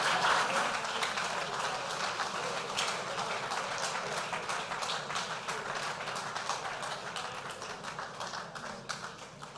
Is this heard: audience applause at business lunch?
yes